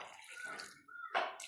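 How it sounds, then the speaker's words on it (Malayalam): Water is poured over salted, chopped cucumber for a pachadi, giving two quiet splashing bursts of pouring, brief and close. "എന്നിട്ട് നമുക്ക് കുറച്ച് വെള്ളവും കൂടെ ഒഴിക്കാം."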